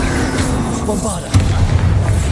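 A Bombarda explosion spell in the game Hogwarts Legacy lands as a single deep boom partway through, amid ongoing battle noise, with a person talking over it.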